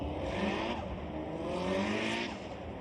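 A Nissan S14 drift car from K's Racing on a Formula Drift Japan qualifying run, its engine roaring loud and steady with tire noise throughout.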